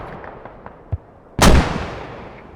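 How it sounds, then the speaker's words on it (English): A single mortar round in the game Squad lands with a sharp, heavy boom that rings out and decays over about a second, following a few faint distant thumps. "Mortars active again."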